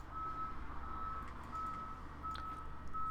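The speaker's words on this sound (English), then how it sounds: "Why do I have to have a beeping vehicle outside my window right now?" A truck's reversing alarm outside a window sounds a regular series of steady electronic beeps, moderately distant, over a low rumbling engine and street hum.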